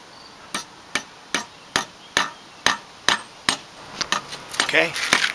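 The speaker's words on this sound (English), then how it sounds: "you can hammer this" A Bahco axe head is hammered onto a hickory handle with a steady run of about a dozen sharp metallic blows roughly half a second apart, close and loud, growing busier and more jumbled toward the end.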